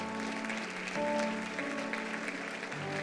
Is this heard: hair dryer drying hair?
no